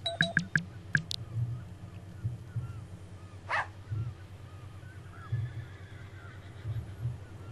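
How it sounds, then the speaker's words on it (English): A puppy in the Second Life virtual world gives a quick burst of sharp little barks at the start, then the scene settles into quiet ambient game sound. "There's a little puppy running around the house as well."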